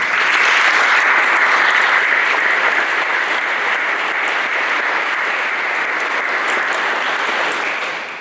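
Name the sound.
audience applause at graduation ceremony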